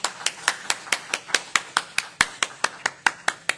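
One person claps hands in a steady, evenly spaced beat, about four sharp claps a second, close and crisp with nothing else heard.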